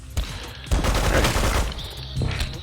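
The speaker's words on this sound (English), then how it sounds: "He has a machine gun." Machine gun fire in the video game Megabyte Punch, one dense, loud, continuous burst of rapid shots lasting about a second, then trailing off with a fainter electronic tone and a final thump.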